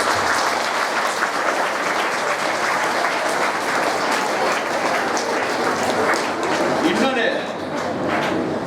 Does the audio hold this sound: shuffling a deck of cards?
no